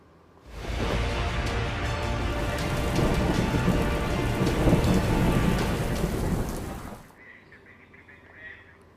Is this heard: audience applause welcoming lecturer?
no